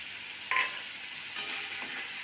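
Kohlrabi, potato and prawns stir-fried in a pan with spices, a steady sizzle with a few louder scraping stirs of a spatula near the start and again later.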